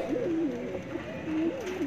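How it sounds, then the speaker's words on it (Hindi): A Kasni high-flying pigeon coos close by, a series of soft rolling coo phrases repeated twice over a low background hum. "कासनी कबूतर है"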